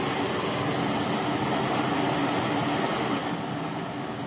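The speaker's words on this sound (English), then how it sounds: "That Naturehike is like a rocket engine. It's just straight up in the air." A Naturehike backpacking stove burner roars at full output, a steady, loud, dense flame rush that holds without a break.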